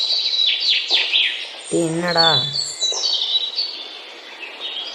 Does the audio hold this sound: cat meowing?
no